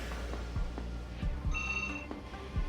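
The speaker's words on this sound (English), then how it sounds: "Oh, that's my phone." A phone rings briefly with a bright, steady electronic trill, repeated tone bursts over low background noise, fairly close and moderately loud, with no talk over it.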